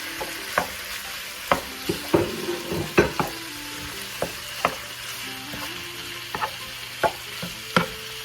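Ground pork fries in a pan for a chicken and pork stir fry with celery, a steady sizzle broken by regular sharp spatula scrapes and taps, close and clear, with no talking.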